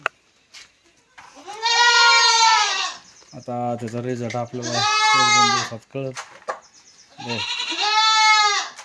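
Confined goats and young kids bleat loudly in three long, wavering calls close by, while someone talks between and over them.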